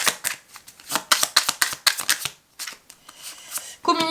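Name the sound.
shuffling and drawing oracle cards for a reading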